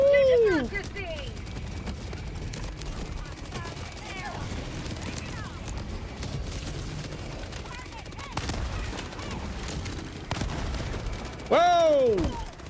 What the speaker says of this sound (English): Airburst rocket launcher.